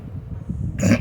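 A single rough cough bursts out near the end after a brief stretch of quiet, low rumbling.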